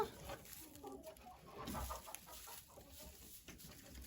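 Hens cluck softly inside a henhouse, making faint, scattered low calls under a quiet background.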